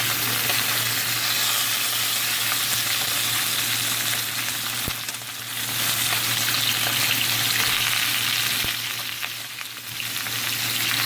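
Meat for dibi frying on a hot surface, a loud close continuous sizzle with a low steady hum beneath and a couple of sharp taps as it is flipped.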